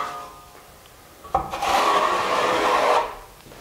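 A drywall trowel wipes joint compound tight along an inside corner during taping. One long, steady rasping scrape lasts about two seconds, starting with a small knock and heard up close with no talk.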